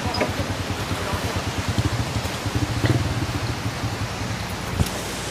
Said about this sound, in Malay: Sungai Jeram ni agak kuat sikit guys hari ni